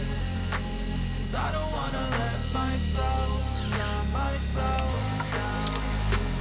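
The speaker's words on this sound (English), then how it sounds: "try out turning on the lathe" Wood lathe turning table legs, a steady motor drone with mains hum running throughout, broken by repeated short scraping and clicking bursts from the cutting tool.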